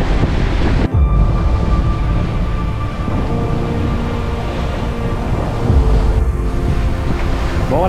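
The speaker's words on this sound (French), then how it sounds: "Ça brasse un peu. La vague est courte." A choppy sea with short, steep waves slaps and churns around a sailing boat near Mindelo while wind buffets the microphone, a loud, continuous wash of water with occasional heavier surges.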